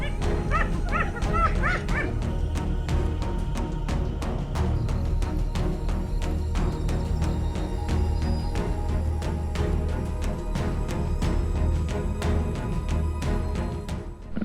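Spotted hyenas of a savanna clan call near a leopard guarding its kill, with rising yelping whoops at the start followed by a dense run of barking, yipping cries that carries on loudly throughout.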